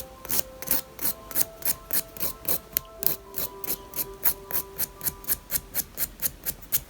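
A nail file rasps across the nail plate to buff it before a gel application, with about twenty quick, even back-and-forth strokes in a steady rhythm, close and clear with no talking.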